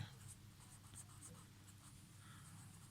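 Chalk or pen scratches out a solution during a math lecture, soft and steady with short strokes under a quiet room hum.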